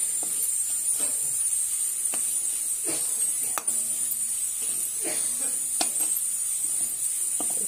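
Onion bhaji with gram flour and garam masala is stir-fried in a pan, a close, continuous sizzle with a bright high hiss and irregular sharp spatula scrapes and taps.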